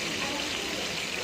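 Raw chicken pieces fry in hot oil in a pan, a dense, steady sizzling hiss with no letup, close and fairly loud, while a person talks faintly underneath.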